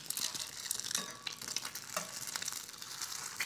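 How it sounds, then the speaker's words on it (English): An egg sizzles in a carbon steel pan, soft crackling spatter with scraping and clinks as a spatula works under it and flips it, fairly quiet and close with no talking. "time to flip this egg"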